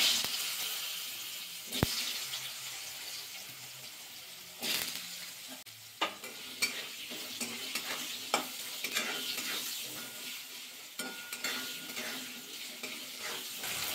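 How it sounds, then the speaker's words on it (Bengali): Potatoes fry in hot oil with salt and turmeric while being stirred, giving a steady sizzle with scattered scraping taps of the spatula against the pan, close and moderately loud, no talking. "নাড়াচাড়া করে আলুগুলো ভাজা হয়ে গেছে"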